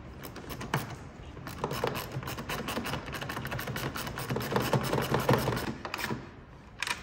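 A hand ratchet tightening a nut on grille trim of a 2022 Ford F-350 King Ranch, a quick, rapid clicking that runs steadily for several seconds, close but fairly quiet.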